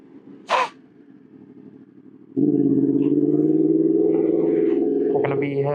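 A new Yamaha R1 sport motorcycle riding toward downtown Houston: a steady, loud engine drone kicks in after a quieter stretch of road noise, marked at the start by a short sharp sound, and stays close throughout.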